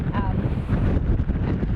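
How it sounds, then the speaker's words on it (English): Steady wind buffeting the microphone, a loud continuous low rumble with voices faintly mixed in. "Yeah, it's ridiculously windy"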